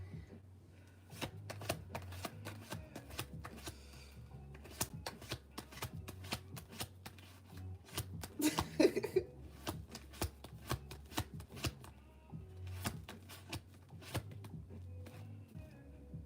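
Tarot cards being shuffled by hand, a deck riffled and slid in quick repeated bursts of crisp papery flicks and taps, close and fairly quiet, with no talking.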